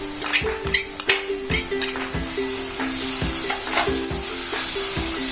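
Crushed ginger and green chillies sauté with softened onions in a hot pan for a fish roast, a steady sizzle punctuated by repeated sharp scrapes and clinks of a spatula stirring against the pan.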